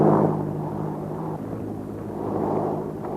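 Propeller airplane engine taking off in a 1935 film serial, a droning rumble that swells and fades slightly as the aircraft pulls away, with no voices over it.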